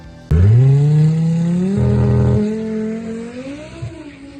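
Audi TT RS engine revving hard from a sharp start, its pitch climbing steadily through the gears as it pulls away, loud and close, then easing slightly before a short final rise; no talking.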